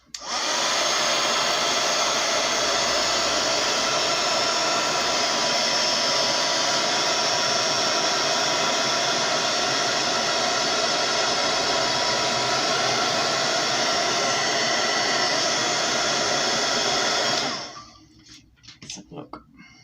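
A handheld drying tool blows a loud, steady stream of air over a papercraft index-card pocket for about seventeen seconds before switching off abruptly.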